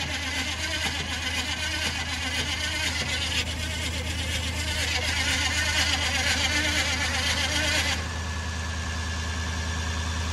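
An old Jeep engine cranks over continuously for about eight seconds, a steady rhythmic churning drone that suddenly drops away, with people talking nearby.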